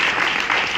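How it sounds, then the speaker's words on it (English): Live seminar audience in London producing a burst of clapping, loud and close, a short dense smack of many hands that fills the moment with no talk over it. "One clap. That's good."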